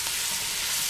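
Sausage browning in its own rendered fat in a pan, a loud, dense, continuous sizzle with no talk.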